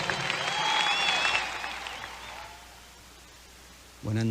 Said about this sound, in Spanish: Dale a Cristo ese aplauso